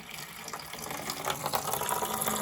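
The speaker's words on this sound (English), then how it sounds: "And I'm draining some of the water." Water draining from a water heater into a 5-gallon bucket, a steady close gushing splash that builds slightly over a couple of seconds.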